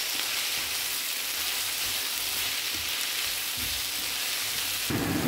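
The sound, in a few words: onions being stir-fried in a pan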